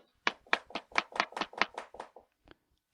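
Fingers tap out a quick series of about ten knocks on a computer, imitating someone knocking on a door, close and crisp in an even rhythm, followed by a lone fainter tap.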